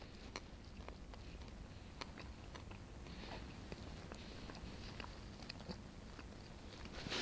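Raw oak acorns are crushed between the teeth in a forest, with faint, close crunches and soft chewing clicks repeating irregularly over quiet background noise.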